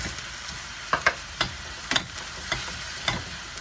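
Onions with added salt frying in a pan for prawn thokku, a steady close sizzle with occasional sharper crackles and spatter pops throughout.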